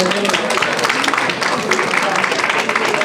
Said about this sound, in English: I hear a round of applause coming from